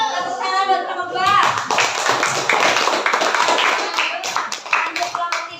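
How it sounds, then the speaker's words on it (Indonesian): Fifth-grade classroom applause for a presenting group, brisk clapping from many children, with a voice briefly heard at the start and chatter mixed under the claps. "Tepuk tangan buat kelompok 2."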